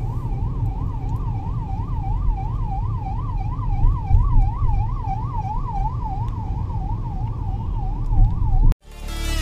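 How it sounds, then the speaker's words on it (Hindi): An ambulance siren wails in a rapid rising-and-falling pattern over the rumble of city road traffic, heard from inside a Maruti Brezza, fairly close, then cuts off abruptly near the end. "एम्बुलेंस आ रही है तो रास्ता दे देते हैं उसको"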